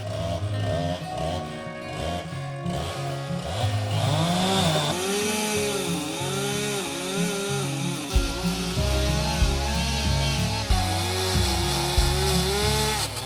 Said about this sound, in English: The chainsaw has stopped momentarily. It's about to start again though.